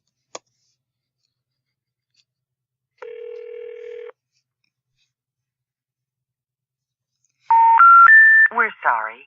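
Phone call placed to Myrtle's number: a click, then a steady tone burst lasting about a second, a long pause, and finally a louder stepped tone sequence that gives way to a recorded voice.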